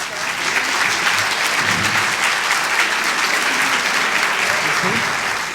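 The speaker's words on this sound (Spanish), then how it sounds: "hermana Guadalupe, le damos un súper aplauso" A crowd breaks into loud, sustained applause, steady clapping that fills the room for several seconds, with a few voices faint underneath.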